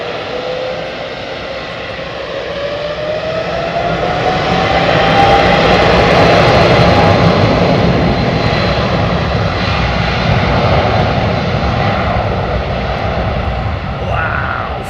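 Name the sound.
jet airliner departing, engines at takeoff power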